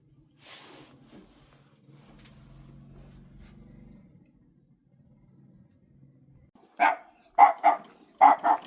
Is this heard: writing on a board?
no